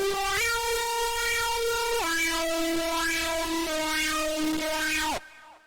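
Serum synth lead patch named "Foolish" from the DOOMSDAY preset pack, a loud, bright, buzzy held tone stepping between a few sustained pitches, then cutting off abruptly near the end.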